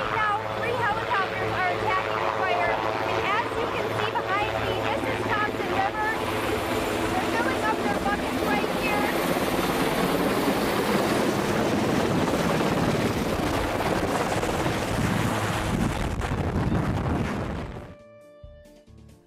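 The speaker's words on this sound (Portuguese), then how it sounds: "um helicóptero começa a subir e fez mais barulho do que ela imaginava" A helicopter lifts off nearby with a loud, dense rotor and turbine roar that swells over the clip, then cuts off abruptly near the end.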